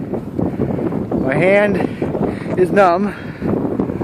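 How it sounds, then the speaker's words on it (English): Strong wind blasts into a handheld microphone outdoors on a windy day in Sarnia, a steady roaring rumble that stays loud throughout while a person talks over it. "I want to end this vlog because the wind is fucking killing me."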